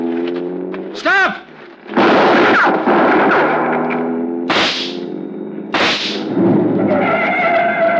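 Gunshot effects crack out in an old-time radio detective drama, three or four loud, sharp reports spaced a second or two apart, heard alongside shouting voices and dramatic talk.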